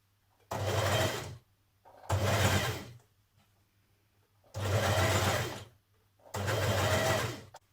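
Sewing machine stitching binding around a woven Burda top, running in four separate bursts of about a second each, with short quiet pauses between them; close and fairly soft, no talking.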